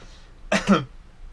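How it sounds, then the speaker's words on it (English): A man gives two quick, close coughs that run into a throat clear, loud against a quiet room, with no talking. "I'm sorry for my coughing."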